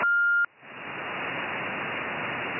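A short electronic CB radio roger beep sounds at the start, then cuts to a steady wash of loud radio static hiss that fills the rest.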